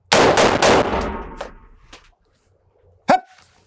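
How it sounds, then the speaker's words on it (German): Three sharp, loud pistol gunshots fire in quick succession during firearms training, their echoes trailing off, followed after a pause by one shorter sharp crack. "Und dann 3 Schuss."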